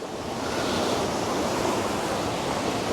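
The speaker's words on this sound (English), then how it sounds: "We've got to wait for the waves to go out again." Ocean waves surge into a beach cave with a heavy, continuous roar of churning water and wind rush, loud and close, swelling slightly early and then holding steady.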